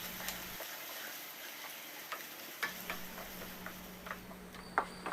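Chopped onions and green chillies sautéing with mustard seeds in a pan for brinjal gravy, heard as a faint steady sizzle broken by scattered light clicks and scrapes, with no talking.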